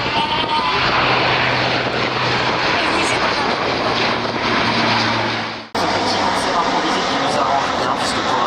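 Airbus A400M Atlas military transport aircraft at the Orléans airshow, a loud sustained propeller-engine roar with a low droning hum, steady and close, briefly cut off then resuming.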